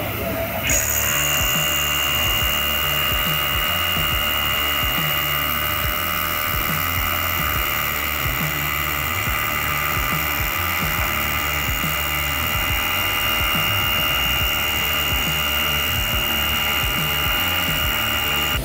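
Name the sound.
cordless drill drilling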